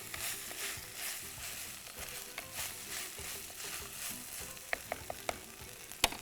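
Cabbage and bell pepper sauté in a hot pan with a steady close sizzle, broken by a few sharp clicks and scrapes of stirring toward the end.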